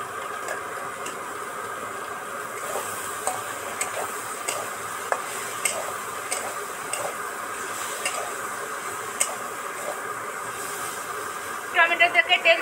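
Chopped tomato frying in hot oil gives a continuous bright sizzle and hiss, with light clinks of stirring scattered through and a brief clatter near the end.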